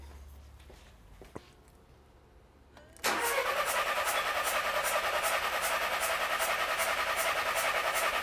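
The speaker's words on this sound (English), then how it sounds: "So I'm going to conduct the cranking test and you can view the results." A car engine cranks over on the starter motor during a relative compression test, a steady rapid rhythmic chug that starts abruptly after a quiet stretch and continues loud and evenly to the end.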